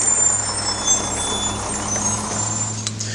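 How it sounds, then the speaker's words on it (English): A garbage truck idling nearby on a street, a steady low engine rumble with faint high whine, continuous and moderately loud with no talk. "you'll just have to excuse the garbage truck"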